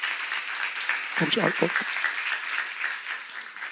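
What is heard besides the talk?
audience applause in church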